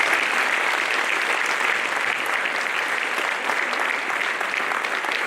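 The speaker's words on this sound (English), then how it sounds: "I'd like to have a round of applause for these young ladies here." Sustained audience applause at a high school volleyball hall of fame induction, a dense steady wash of many hands clapping for several seconds without pause.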